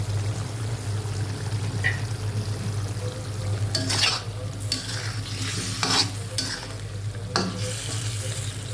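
Potatoes cooking with tomatoes for a taki fish curry, stirred in a pan: a low steady sizzle and hum, with several short scraping stir strokes clustered midway and near the end.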